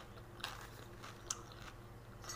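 Someone bites into a hot, crunchy turon, a fried banana roll, and chews close to the mic, making soft crisp crunches with a few sharper crackles in a quiet room.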